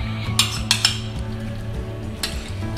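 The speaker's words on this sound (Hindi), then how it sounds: "अच्छे से मैश करेंगे ताकि हमारे लड्डू आराम से बंध जाए।" A spoon mashes ghee into a multigrain gond ladoo mixture in a bowl, producing a few sharp metallic clinks and soft scraping over a low steady background hum.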